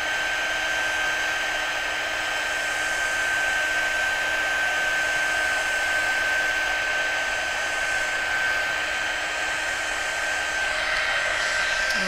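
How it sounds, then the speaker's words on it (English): A heat gun blows a steady, even whooshing roar while it melts embossing powder on a card. The sound is continuous and close, with a thin high whine and no talking. "we're just going to hold the heat gun still, and then again, as soon as that powder starts to melt and change"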